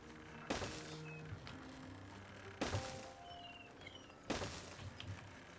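Three sharp, evenly spaced thumping blasts from explosions in the beaver colony-building game Timberborn ring out over quiet ambient game music and faint birdsong, each burst brief and fairly soft.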